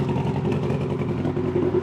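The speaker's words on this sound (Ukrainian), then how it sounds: "звук вихлопа" A Mitsubishi pickup truck's steady, throaty exhaust drones continuously with rough low rumble and slight surges, close and fairly loud, no voices.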